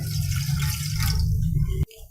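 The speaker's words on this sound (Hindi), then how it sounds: "उसमें 1 गिलास पानी का डाल दें" Water pours steadily from a glass into a clean cooking pan, a continuous close splashing fill that stops abruptly near the end.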